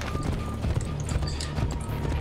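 Horse hooves in Assassin's Creed Brotherhood, a steady clip-clop of galloping close by, with faint game ambience around the rhythmic beats.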